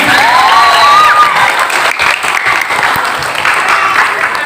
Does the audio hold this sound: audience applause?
yes